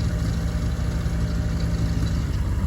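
An old farm tractor's engine runs steadily nearby, a continuous low, rumbling chug with no change in pace and no voices over it.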